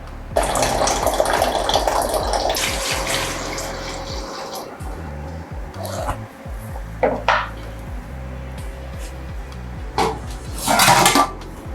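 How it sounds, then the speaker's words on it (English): Water poured from a tap or jug into a cooking pot holding stockfish while preparing egusi-okro soup, a steady splashing rush that ends in a few louder pours and clinks of the pot near the end, with no talking. "And then I'm going to add water to this."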